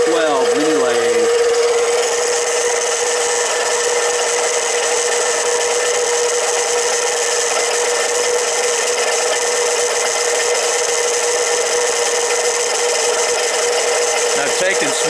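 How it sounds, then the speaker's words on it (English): A 7x10 Harbor Freight 93212 mini lathe takes a cut on a 304 stainless steel bolt, giving a continuous, steady, close whine of metal being turned, running unbroken throughout. "That's the Harbor Freight 93212 mini lathe."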